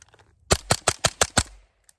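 Six quick subsonic gunshots from a rifle with a 7.5-inch barrel, evenly spaced sharp cracks close by, fairly subdued, followed by a faint single click near the end.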